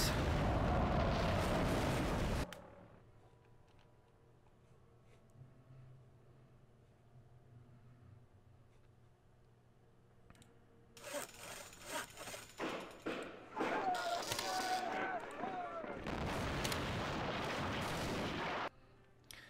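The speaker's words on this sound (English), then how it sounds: "Alright, British. Eat bombs!" Bombs exploding in the Axis and Allies RTS real-time strategy game during an invasion of India. One heavy blast opens the stretch, then after a quiet lull a series of rapid, loud booming explosions follows for several seconds.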